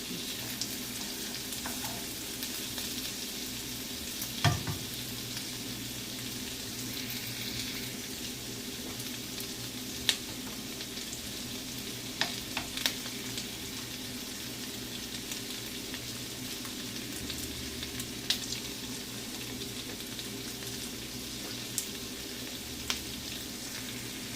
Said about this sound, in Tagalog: Palabasin lang natin yung bango ng sibuyas at ilalagay na natin yung mushroom.